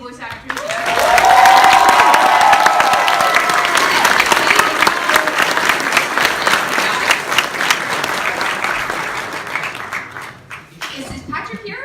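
An audience at a Sword Art Online: Ordinal Scale dub premiere Q&A bursts into sustained applause for the voice actors, loud and dense at first, then gradually thinning out as the clapping fades.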